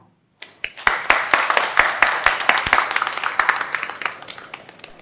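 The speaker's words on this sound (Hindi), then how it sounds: "तो तालियों से स्वागत कीजिए गुलिन का और यजियांग का।" Enthusiastic applause from a TV show studio audience, starting abruptly after a short silence and continuing steadily with sharp individual claps standing out.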